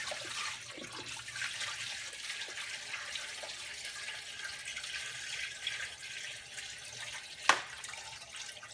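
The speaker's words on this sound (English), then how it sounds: "I will dump this water into the sump" Old aquarium water poured from a bucket into the sump of a Red Sea Reefer 250 reef tank, a steady close splashing rush that runs throughout, ending in a single sharp knock near the end.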